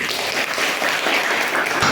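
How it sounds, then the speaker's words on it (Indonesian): A classroom of pupils claps for a student named Hafiz during an Islamic lesson on the Asmaul Husna. The applause is steady, dense and close, lasting about two seconds with no talk over it. "Beri tepuk tangan untuk Hafiz."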